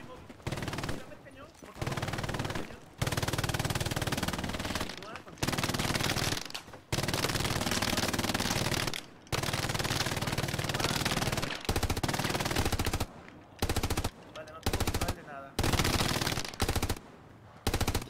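Repeated bursts of automatic gunfire in Hell Let Loose, a World War II battle at El Alamein, loud close volleys separated by brief silences over about eighteen seconds.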